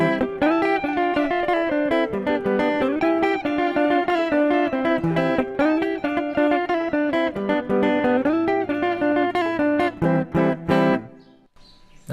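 A guitar plays in the eastern Zambian style, a busy and continuous stream of bright picked notes over a rolling bass, loud and close, trailing off at the very end.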